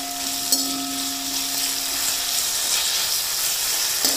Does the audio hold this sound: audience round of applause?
no